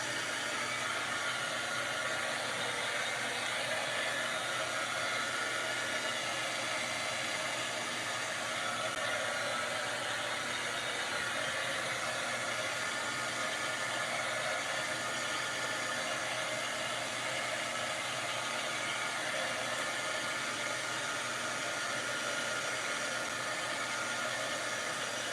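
A hair dryer runs steadily, drying a hula skirt and balloon craft, a constant broadband whoosh held at even loudness with no pauses or talk throughout.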